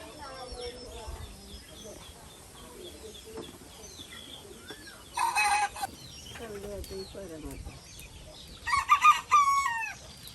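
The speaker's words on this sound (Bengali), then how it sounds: "এই যে এদিকে দেখুন নানির কত মুরগি এই যে খুপড়িতে লালন পালন করতেছে।" Hens cluck steadily in a village coop while a rooster crows loudly twice nearby, with a voice talking in between.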